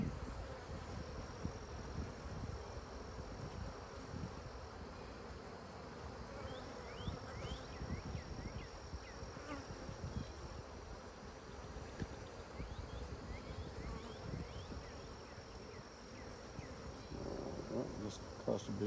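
Honey bees swarm around an open hive in an apiary, a dense, continuous buzzing that fills the whole stretch, with occasional soft rustling and faint handling noises close by.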